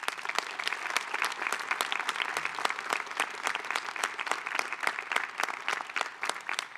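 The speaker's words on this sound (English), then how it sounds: "Let's give your heroes a big round of applause." Graduation ceremony audience claps steadily in a large hall, a dense sustained round of applause that carries on throughout at an even level.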